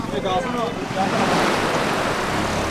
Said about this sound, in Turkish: Dalga geldi aynen.